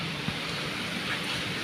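Steady morning rain falls outdoors as a constant, even hiss of broadband noise, moderately loud and unbroken, with no voices over it.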